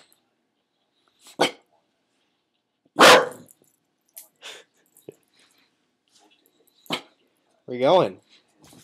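A dog barks in short, separate bursts and growls now and then at a phone, with a voice speaking between the barks in a quiet room.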